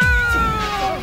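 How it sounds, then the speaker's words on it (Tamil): A cat meows loudly and close by, one drawn-out wavering cry with a sliding pitch, heard alone in an animated cartoon scene. "அந்த பூனையோட சத்தம் கேக்குது."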